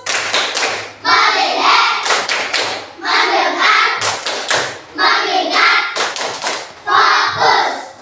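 Schoolchildren in a classroom clap in tight unison to a chant, with repeated claps clustered in quick patterned bursts between chanted voices, cycling four times, close and loud.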